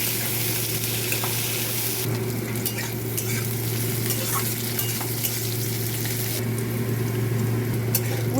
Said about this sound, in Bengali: কড়াইতে তেল দিয়েছি, যে মাছের তেলটা এনেছিলাম এটা দিয়ে উচ্ছে করবো,